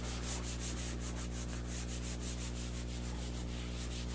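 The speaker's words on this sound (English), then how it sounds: "so if I draw something lousily, I can just erase it" An eraser rubs over a drawing on a lecture board in a steady, rapid back-and-forth scrubbing rhythm, close and continuous with no talking.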